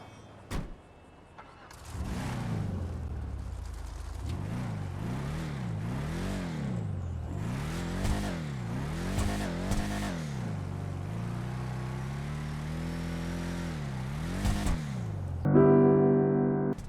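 The Tulip, a four-door muscle car in the video game GTA 5, revs repeatedly, its engine note rising and falling in a steady series of throttle blips, loud and close, ending in a brief burst of game sound.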